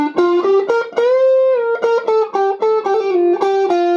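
Distorted electric guitar plays the second section of a riff, a steady run of picked and slid notes with one longer held note, loud and alone without speech.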